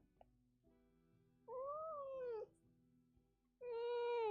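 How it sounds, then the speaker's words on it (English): A hungry pet cat gives two clear, drawn-out meows a couple of seconds apart, close by over a faint, quiet room hum with no talking. "It's a meow."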